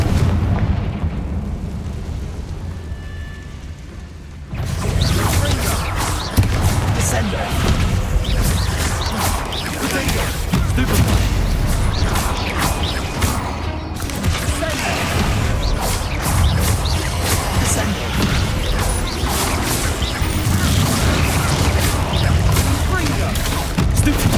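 Confringo explosive spell blasts in the video game Hogwarts Legacy: after a quieter opening, a loud, sustained barrage of crashing bursts and booms erupts and keeps hammering through a busy combat din.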